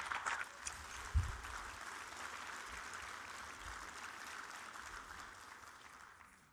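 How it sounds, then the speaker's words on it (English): An audience at an industry conference opening session applauds steadily for award presenters, a dense even clapping that holds for several seconds and slowly fades, heard from within the hall. "please give us a round of applause for Paul and the OilSafe team."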